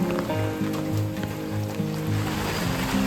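Rainwater rushing along a potholed street during the monsoon in Pune, a steady broadband wash of flowing water, close and continuous, with a low rhythmic hum running underneath and no talking.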